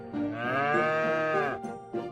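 A spotted cow lets out a long, loud, drawn-out moo that swells and then fades, followed by a short second grunt, close and clear with no talking.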